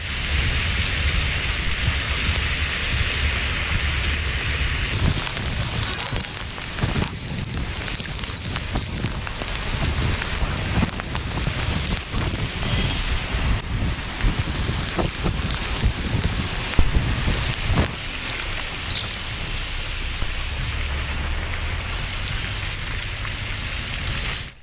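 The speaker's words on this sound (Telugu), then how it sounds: "ఉరుములు మెరుపులతో కూడిన భారీ వర్షం కురిసింది" Heavy rain pours down during a violent windstorm in West Godavari district, a steady, loud roar of downpour hammering surfaces without pause, swelling denser through the middle, with no voices.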